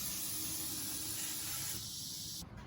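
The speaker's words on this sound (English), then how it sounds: "I like to spray a little lube on them" Aerosol lube sprayed onto brake parts during a front brake service on a 2014-2018 Honda Pilot, a close steady hiss lasting a couple of seconds before cutting off abruptly.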